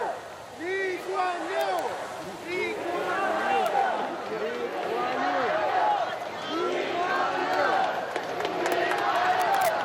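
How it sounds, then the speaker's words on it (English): Crowds lining Commonwealth Avenue in Singapore call out Lee Kuan Yew's name as his funeral cortege passes, many overlapping voices chanting and shouting in a continuous, rising roar of sustained cries. "we can hear the crowds crying out his name, Lee Kuan Yew, as the cortege passes by"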